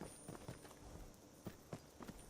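Horse hooves in a video game, a light clip-clop of scattered, irregular hoofbeats, faint and quiet under a hissing background hum, with no talking.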